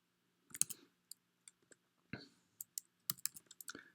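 Someone types on a computer keyboard, with sparse, uneven key clicks coming close and clear in short bursts and pauses, without any talking.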